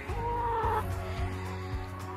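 Soft, low clucking from a few chickens nearby, a short murmuring stretch of hen chatter with no talking.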